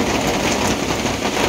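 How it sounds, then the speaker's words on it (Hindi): Heavy rain pours steadily outside a window during a downpour with flooding, a dense, continuous hiss that stays loud and unbroken throughout with no voices. "बारिश तो हो रही है भाई धमाधम।"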